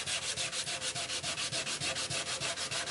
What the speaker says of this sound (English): You just want to sand the black off.